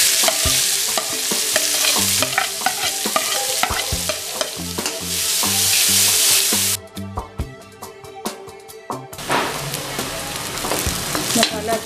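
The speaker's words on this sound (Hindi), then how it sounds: "अब इसमें हम ऐड करेंगे प्याज, लहसुन, हरी मिर्च जो हमने कट करके रखी हुई थी।" Onion, garlic and green chili fry in a hot pan for a restaurant-style shahi paneer, a loud continuous sizzle with repeated scraping stirs of a spoon, briefly quieter before sizzling returns.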